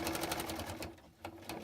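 A sewing machine stitches binding onto a quilt, its rapid needle chatter running steadily and close by with a brief slowdown midway before picking back up.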